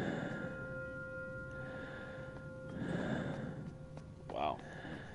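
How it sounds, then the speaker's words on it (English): Eerie breathing sound effect in a Halloween dream-themed game, faint slow breaths and a soft gasp under low ambient noise. "Do you hear the breathing?"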